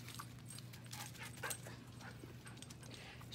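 A dog whimpers and yips faintly in short broken bursts, with soft scuffling over a low background hum.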